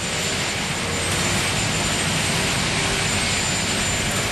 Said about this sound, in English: They'll be taking that Executive One U.S. Marine Corps helicopter.